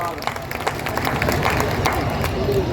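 Audience clapping at a Hindi poetry recital in Bundi, a close, dense patter of many hands mixed with crowd chatter and a voice.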